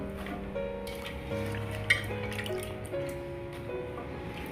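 Moringa drumstick pods are rinsed in water in a kitchen, with soft splashes, drips and a metal vessel clink heard faintly beneath steady background music.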